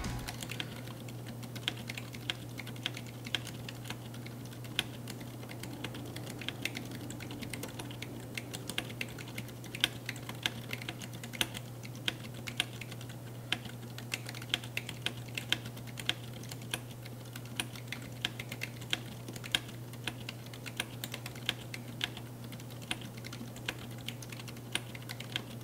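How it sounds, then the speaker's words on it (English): Soft, muffled keyboard typing on an Akko ACR81 mechanical keyboard with Gazoo Boba U4 silent linear switches clicks along steadily over a constant low hum, with quiet, damped keystrokes and no voices. "Here's what the Akko ACR81 keyboard sounds like"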